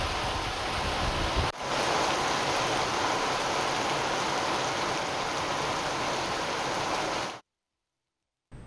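Heavy rain pours down in Hyderabad, a dense, steady hiss of downpour that stays loud and unbroken for about seven seconds, then cuts off abruptly into silence.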